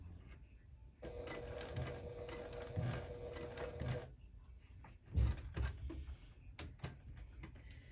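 A sewing machine stitching a handbag, running in a close, rapid mechanical chatter for a few seconds with pauses and handling clunks between runs, fairly quiet overall.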